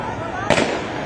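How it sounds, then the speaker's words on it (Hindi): A single sharp bang like a gunshot rings out at a street protest, loud against steady crowd noise and background voices. "पीपला अचनि पिया, जेकी फायरिंग कंदा पिया अचनि"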